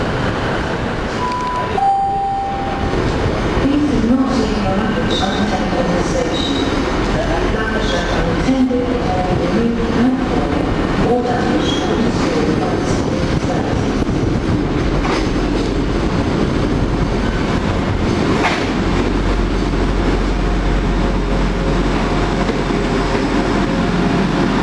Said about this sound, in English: This is an absolute typical cross-country train running from